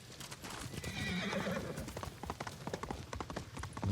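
A horse gallops in Ghost of Tsushima, its quick rapid hoofbeats close and loud, with a sharp neigh rising early on over the pounding rhythm.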